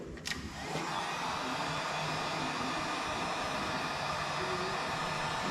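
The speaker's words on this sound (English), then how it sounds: "we'll take our heat gun and we'll heat that sucker up" A heat gun blows steadily on a plastic cone, a continuous broadband whooshing roar that starts abruptly and holds loud and even throughout, with no talking.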